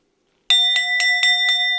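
A bell rings out after a moment of silence, struck five times in quick even succession, bright and close with a sustained metallic ring.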